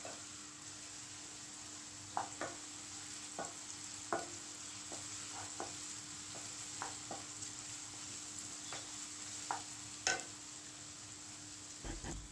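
Tomato gojju ingredients frying in a pan, a quiet low hiss with sparse spoon taps and scrapes scattered through, fairly faint and close, with no voices.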